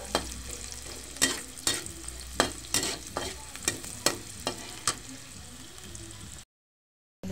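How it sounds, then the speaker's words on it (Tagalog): Garlic and onion sauté in a hot pan for a Filipino ginisang pechay with tofu: a steady close sizzle broken by repeated sharp scraping stirs at an uneven rhythm, then a short silence near the end. "Magigisa tayo ng bawang."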